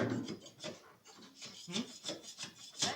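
A sharp metal scraper drawn repeatedly across a rusty boat hull, rasping strokes in a fairly quick, uneven rhythm, close and moderately quiet.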